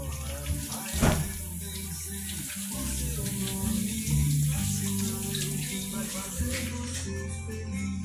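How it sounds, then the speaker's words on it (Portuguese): A tap running as someone rinses their hands during a cleaning day at home, a continuous splashing stream under faint background voices and music, with a brief knock near the start. "Vou só passar uma água na mão aqui na mão."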